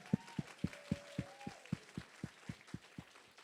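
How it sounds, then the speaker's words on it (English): Guests at a wedding reception clap in a slow, evenly spaced rhythm of about a dozen distinct claps, close and clear, while a faint voice or tone drifts underneath. "Give them a big applause."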